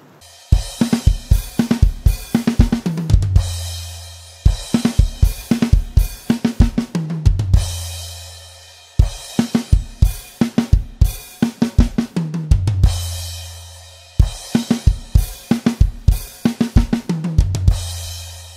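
Simplified drum beat for a song, played on a kit in four repeating phrases of steady kick, snare and cymbal hits, each ending in a quick fill and brief pause, loud and close with no talking.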